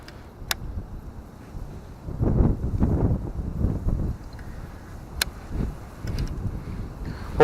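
Gusty wind buffets the microphone in low rumbling bursts, swelling and fading over several seconds, with a few sharp clicks on top.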